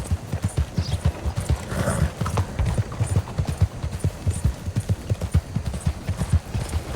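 Horse hooves clip-clop in a video game, in a steady, quick rhythm on a hard surface, close and continuous throughout.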